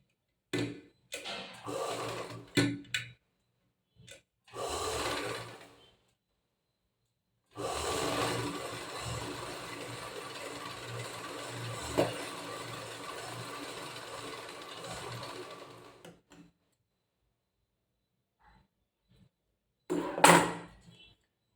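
A sewing machine stitches along a saree border in short bursts, then one long steady run of mechanical whirring and clatter before stopping, followed by a few faint clicks and one last brief burst.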